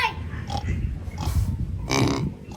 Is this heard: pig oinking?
yes